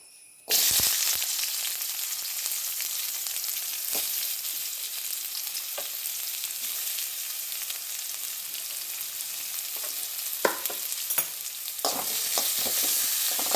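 Shallots sizzle steadily in hot oil in a pan as the base for a chicken curry, the frying starting abruptly and holding a bright, even hiss with a few louder crackles and stirring scrapes near the end.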